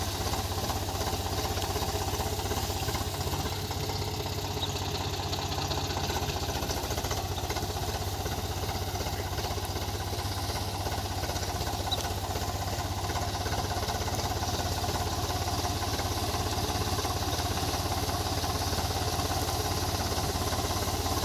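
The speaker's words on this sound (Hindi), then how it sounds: "देख सकते हो बहुत बढ़िया चल रहा है ट्रैक्टर" Eicher 485 tractor engine running steadily in a field around 1000 RPM in first gear of the high range, a continuous low mid-pitched drone heard at moderate distance with no breaks and no talk.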